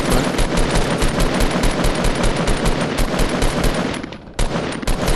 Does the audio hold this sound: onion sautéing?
no